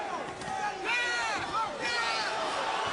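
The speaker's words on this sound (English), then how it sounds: "Crowd gets riled as Junior Witter tries to come back with something" A boxing crowd at the Timothy Bradley vs Junior Witter fight grows riled, a dense roar of shouting and jeering that swells throughout, with a commentator talking over it.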